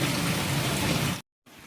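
Steady monsoon rain, falling for seven days, pours down in a dense, hissing wash, cut off abruptly by a moment of silence before resuming more softly.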